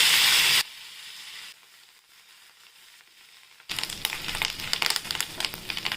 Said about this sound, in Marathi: हा कढीपत्ता धुवून घेतला, हा पण तेलात परतून घ्यायचा